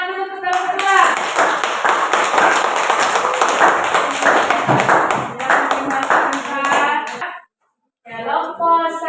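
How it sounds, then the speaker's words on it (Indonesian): A classroom of students claps for a presenting group, a lively burst of many hands applauding close by that breaks off briefly, with voices heard around it. "Tepuk tangan dulu untuk kelompok 2."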